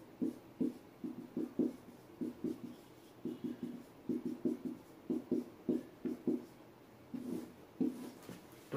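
Pen strokes scratch across paper while an integral solution is written out by hand, coming in short rhythmic bursts of scraping with brief pauses between them, close and fairly quiet, with no talking.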